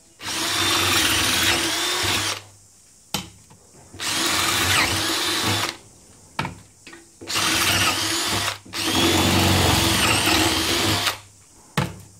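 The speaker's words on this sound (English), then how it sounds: "this is going to be a lot easier to drill out holding it in the vise and using the hand drill" A handheld electric drill bores into a metal part clamped in a vise during electric golf cart repair, running in several loud whining bursts of one to two seconds separated by short pauses.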